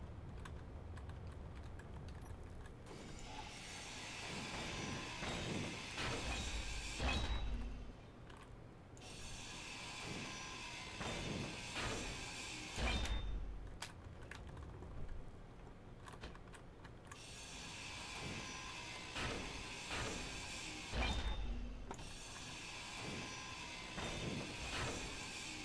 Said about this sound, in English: Maybe we'll grind down the roof where those are,